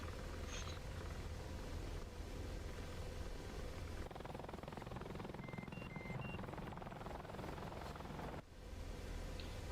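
Helicopter rotor and engine drone in the DCS flight simulator during a dive recovery at high rotor RPM, a steady loud low whine and thrum filling the whole stretch with a brief dip near the end.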